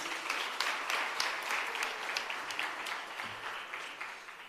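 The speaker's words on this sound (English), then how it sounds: "Another round of applause, ladies and gentlemen." Audience applause at a hybrid capacity building workshop and virtual expo, steady and moderately faint throughout with distinct individual claps in a smallish crowd.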